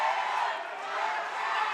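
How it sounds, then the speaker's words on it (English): At a live combat sports bout, a large crowd roars and cheers in a sustained, dense wash of voices that carries through the whole short stretch. "We've got the crowd going crazy."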